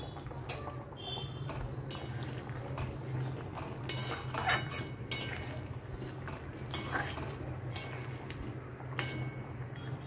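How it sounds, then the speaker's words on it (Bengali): Fried banana flower koftas drop into a pan of thickened curry and get stirred, with steady cookware clinks, scrapes and a low simmering bubble under the clatter, fairly close and without talk. "এবারে দিয়ে দিচ্ছি ভেজে রাখা কোপ্তা"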